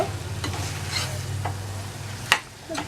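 Konkani chicken sautéing in a pan, a soft continuous sizzle with a few sharp scraping strokes of a spoon stirring, fairly close and quiet.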